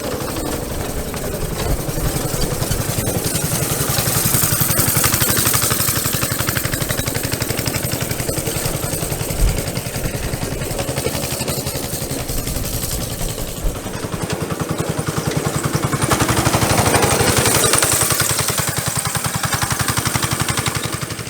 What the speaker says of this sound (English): the boys have a go-kart